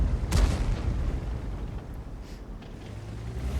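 Artillery fire in World of Tanks: a heavy boom lands early, followed by a low rumbling battle ambience with a faint distant thump, with no talking.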